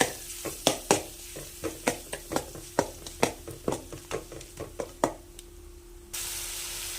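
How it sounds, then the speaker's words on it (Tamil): Spice paste for masala rice sautés in a pan on a low flame while a spoon scrapes and stirs it in a steady run of sharp clinks and taps over a soft sizzle, then the stirring stops and a louder hiss remains. "அடுப்பை நல்லா லோ ஃப்ளேமில் வச்சுக்கிட்டு ஒரு ஒரு நிமிஷம் நல்லா வதக்கி எடுத்துக்கோங்க"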